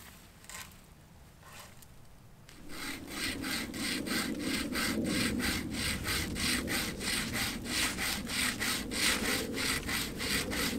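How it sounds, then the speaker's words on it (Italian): An improvised bow saw cuts through wood in quick, regular back-and-forth rasping strokes, close and steady, after a few quieter moments at the start. "fabbricare una sorta di sega ad arco rudimentale, improvvisata"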